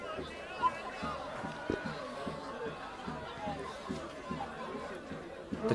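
Crowd chatter and cheering from spectators at a women's varsity football match between Cardiff Met and Bath Uni, a steady murmur of many voices with occasional louder shouts through the whole stretch.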